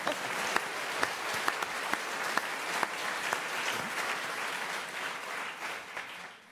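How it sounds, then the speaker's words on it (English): Audience applause welcoming candidates at a 2017 federal NDP leadership debate in Vancouver, a steady wash of many hands clapping at close range with a few sharp louder claps, fading slightly at the end. "You can clap."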